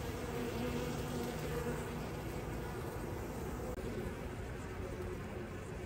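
Steady, dense buzzing of many honey bees swarming nearby in cold, wet weather, a continuous hum with no talking.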